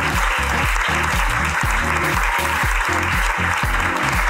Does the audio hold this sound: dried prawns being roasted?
no